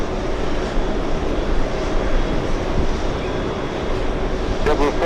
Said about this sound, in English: Delta 169 flying in from Barcelona.